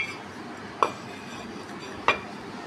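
Small decorative bowls received as gifts clink against each other twice while being handled, two short, clear ceramic chinks in a quiet room with no voices.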